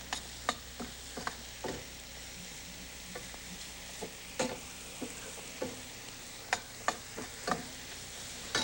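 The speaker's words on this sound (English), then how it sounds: "take our mushrooms and add them to the butter and the drippings and saute those" Mushrooms sautéing in butter and pan drippings, a soft steady sizzle under repeated sharp clicks and scrapes of a utensil stirring against the pan.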